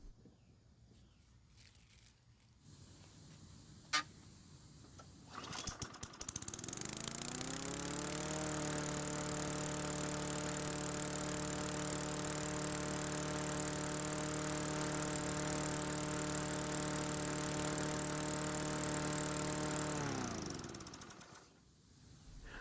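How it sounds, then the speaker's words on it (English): A petrol engine on a Murray walk-behind lawn mower, freshly fitted with a new carburetor, catches after quiet handling noises and runs loud and steady at a high, racing idle for about fifteen seconds before cutting off. "So the engine started on the first pull, which is great."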